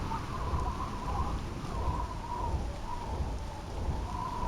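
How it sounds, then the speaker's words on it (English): Steady rainfall with a low thunder rumble in the Voices of the Void video game, a constant hiss of rain over a deep continuous roll, alone without talk. "It's raining, so that might impact our visibility a little bit."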